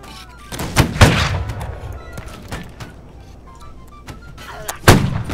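Musket gunfire from the video game Holdfast: Nations at War rings out in several sharp, separated cracks with booming tails, some close and loud, others fainter in the distance, while players talk.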